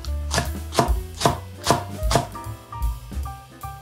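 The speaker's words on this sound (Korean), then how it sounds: "청양고추 3개, 동글동글하게 얇게 썰어줍니다." A knife chops through Korean cheongyang green chili peppers on a cutting board, about eight crisp close taps in an uneven quick rhythm, loud and with no voices.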